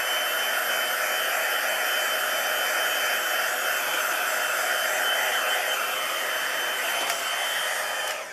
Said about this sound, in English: I'm gonna get my heat tool and I'm gonna dry it so I can show it to you